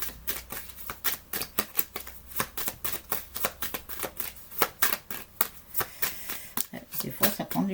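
Tarot cards are shuffled and drawn in a rapid, irregular flurry of crisp riffles and slaps that carries on throughout and sounds close up, with a voice talking in the background.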